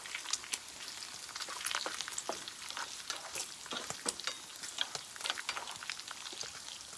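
Bacon, eggs and hash browns sizzle in a pan on a camp stove in a hot tent in a cedar forest, a soft, continuous crackling fry with scattered sharp pops and spits.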